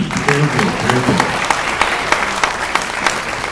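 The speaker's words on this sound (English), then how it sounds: "And again, a round of applause for Mackenzie." An audience gives a round of applause, sustained dense clapping close by, with a voice speaking briefly at the start over it.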